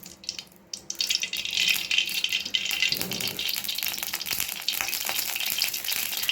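Onions frying in hot oil in a pan for an egg dish, a dense, close crackling sizzle running steadily throughout with occasional stirring rattles.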